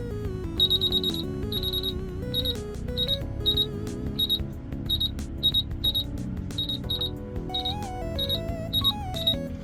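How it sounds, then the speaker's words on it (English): Sharp, high electronic beeps from a RadioShack 12-254 radio scanner repeat in quick pairs and short bursts over a steady low hum, a rapid irregular pattern of invalid-button error tones. "Those are the invalid button beeps."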